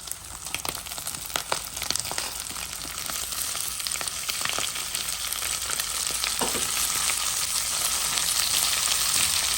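Onions hitting hot oil for a Réunion rougail three-cousins dish, sizzling and crackling steadily with occasional stirring clicks, close and continuous with no talking.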